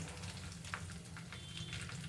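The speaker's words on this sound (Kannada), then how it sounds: "ಲೋ ಫ್ಲೇಮಲ್ಲಿ ಅದನ್ನು ನಾವು ಚೆನ್ನಾಗಿ ಫ್ರೈ ಮಾಡಬೇಕು" Oil with fenugreek powder frying over a low flame for homemade hair oil, giving a steady, soft sizzle and crackle throughout with no speech.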